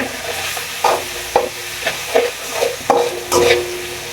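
Salt and garlic being lightly fried in a pan, with a soft background sizzle broken by repeated scraping strokes of a spoon stirring, about half a dozen distinct stirs in a loose rhythm, close up.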